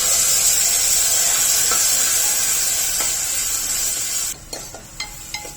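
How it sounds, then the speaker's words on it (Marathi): Steady crackling sizzle of ground coconut, cumin and turmeric frying in ghee, close and continuous, easing off near the end into a few scattered clinks. "एक मिनटं हे तुपावर परतून घ्यायचं आहे"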